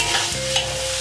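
Shredded pork hits a hot wok and is tossed, a short close sizzle with a scraping stir and no talking.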